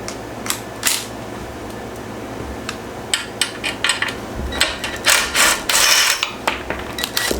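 A ratchet works loose bolts on a Yerf Dog go kart, with quick clicking pawl bursts and clinks of metal hardware, close by, irregular and intermittent, without any talking.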